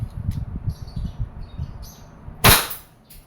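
A WG 708 revolver fires a single sharp report in double action, preceded by faint low rustling and handling noise, with a short decay afterward.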